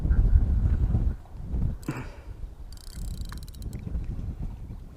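Wind at a reservoir buffets the microphone in heavy low rumbling gusts, strongest at first, then easing into a softer ongoing blustery roar with a few brief clatters, no voices.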